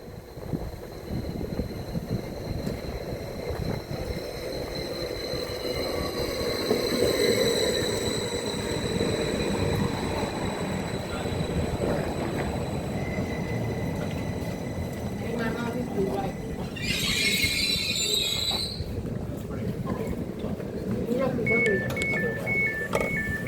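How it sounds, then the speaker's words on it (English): A train bound for Stansted Airport rumbles steadily as it pulls into a station, with a long hum, a burst of squealing brakes, then a short electronic chime tone. "The train is here."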